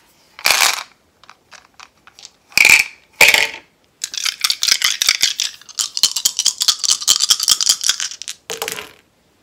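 Dice are shaken and rolled for a tarot-style reading, giving a few sharp rattling bursts followed by a longer stretch of dense clattering and tumbling, close and loud with no talking.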